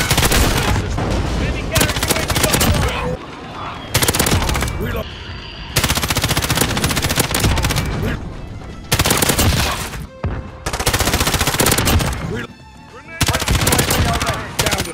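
Sustained bursts of M13 rifle fire from the Modern Warfare video game, loud automatic volleys separated by brief pauses, with several gaps of quieter game ambience between strings of shots.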